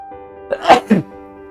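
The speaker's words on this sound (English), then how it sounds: "Fittingly, below is erupt, like that sneeze," A single sharp human sneeze, close and loud, with a short intake before the burst, heard alone without talk.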